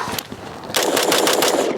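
Rifle with an A2 carry-handle upper receiver fired in a rapid burst of loud, close cracking shots following a brief lead-in.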